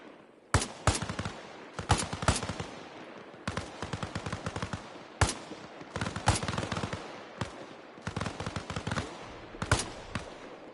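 Gunfire in the video game Arma Reforger: repeated sharp rifle shots and rapid bursts spread over several seconds, loud and close, with no talk.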